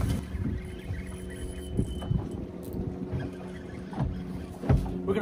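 A boat engine drones low and steady on the water during false albacore fishing off Rhode Island, with wind buffeting the microphone and occasional bumps over the rumble.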